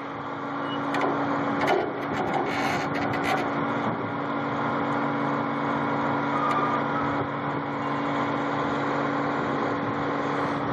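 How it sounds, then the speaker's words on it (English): A roll-off truck's winch drags a 40-yard container in, producing a steady droning mechanical hum with faint clanks and rattles over a running engine throughout. "See the winch pulling it in there."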